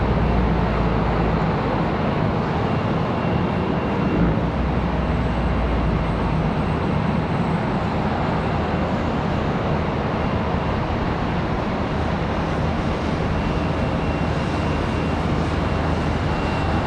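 A CRJ regional jet passes at Charlotte Douglas airport, giving a continuous, fairly loud broadband engine roar with a low rumble that stays steady from start to finish, no talking.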